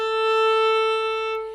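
A single sustained bowed string tone, steady and bright with rich overtones, held alone for over a second before tapering; the attack click at the start of the stroke is not distinctly separable.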